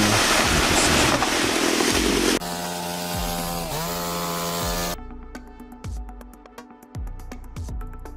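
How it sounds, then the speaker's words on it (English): A small chainsaw cuts down a tree, its engine roaring loud and close, dropping in pitch as the chain bogs into the wood, then revving in sharp bursts and falling to a choppy idle near the end. "Smoothly exploited with a small chainsaw, he has brought down the tree."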